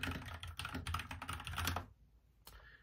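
Quick bursts of close computer keyboard typing as text is entered into a search bar, fast clicking keystrokes that stop, leaving near silence with one last tap.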